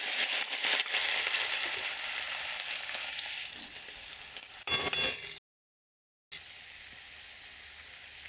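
Loud, steady sizzling of boiled bottle gourd peel frying in a pan, with brief stirring scrapes and a short cut of silence near the end.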